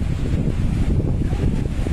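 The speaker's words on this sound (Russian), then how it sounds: "Ветер сильный, слышите?" Strong wind blasts across a microphone on a coastal cliff above a lagoon, a loud continuous low rumble with buffeting gusts and no voices.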